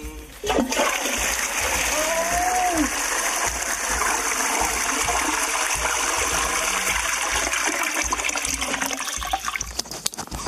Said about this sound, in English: Even in the toilet here, you might find something when you go for a flush.